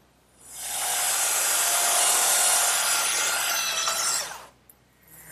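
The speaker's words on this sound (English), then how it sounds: "So I'll just dress that up with my sander." Power sander dressing down a raised spot on a wooden trestle table piece, a steady loud abrasive whir running for about four seconds before cutting off.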